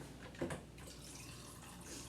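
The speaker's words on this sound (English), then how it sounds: "I gotta put water in my ice maker." Water runs from a tap into an ice maker reservoir in a home kitchen, a faint steady trickle with a brief splash near the start.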